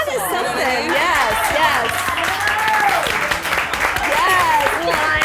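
Audience applause and cheering at a dance show, a dense steady wash of clapping with crowd voices and excited calls layered over it, loud and sustained throughout.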